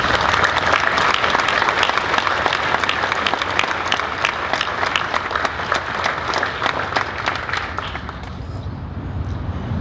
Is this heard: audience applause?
yes